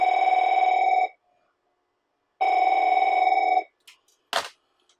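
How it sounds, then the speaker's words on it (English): An AT&T Merlin telephone rings with two long electronic trilling bursts separated by a pause, loud and close, followed by a couple of brief clicks. "dial in and hear that famous"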